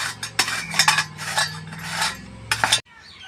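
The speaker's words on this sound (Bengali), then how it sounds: "এটাকে এবার আমি গ্রেট করে নেবো" Peeled, washed potatoes are rubbed against a grater in quick, uneven bursts of rasping strokes. The scraping is close and clear, then stops abruptly near the end.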